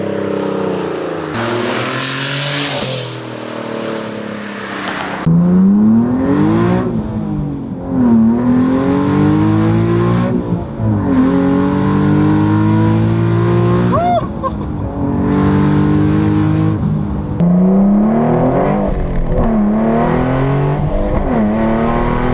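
A Greddy twin-turbo Nissan 370Z with a VQ engine and a 3-inch custom aluminum exhaust revs loud and close in repeated climbing pulls through the gears. Brief hissing bursts come between the pulls, and there are no voices.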